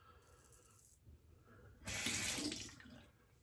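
A faucet runs to rinse a double-edge safety razor blade, a brief soft trickle followed by a louder, close gush of running tap water that fades after about a second.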